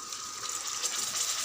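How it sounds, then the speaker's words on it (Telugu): Tamarind juice pours into a simmering drumstick curry, a soft steady gushing of liquid for a moment, faint and close. "ఒక పెద్ద నిమ్మకాయ సైజ్ అంత చింతపండు ఇలా రసం తీసుకొని పోసుకోవాలి"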